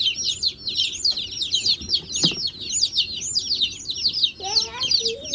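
Baby chicks, a winter-shipped batch, peep in a dense continuous chorus of rapid high chirps inside a brooder, with a few louder calls and handling noise near the end.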